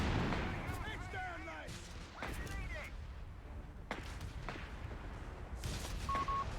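Mortar artillery fire in the video game Company of Heroes 3 bursts out as several separate heavy booms spread across the scene, with other battlefield sounds and faint voice-like chatter between them.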